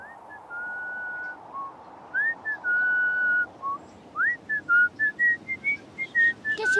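Someone whistles the Marcha de San Lorenzo alone, steady held notes at first, then quicker clipped notes in a brisk rhythm.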